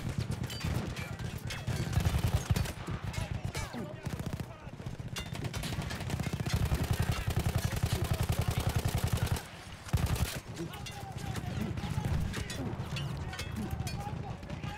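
Machine gun fire from a manned emplacement in the video game Battlefield 1, a long sustained burst of rapid shots with brief pauses, with bursts of battlefield noise around it.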